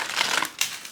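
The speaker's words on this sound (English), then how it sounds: "I'll shuffle a few times for you guys." A deck of playing cards being shuffled at a table, a short close burst of papery riffling with a second quick flick, heard alone.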